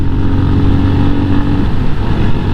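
Yamaha FZ25 motorcycle pulling hard from fourth gear, a loud, close, continuous engine drone with wind roar, steady throughout with no voices.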